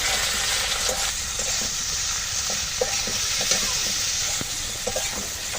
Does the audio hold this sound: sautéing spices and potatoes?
yes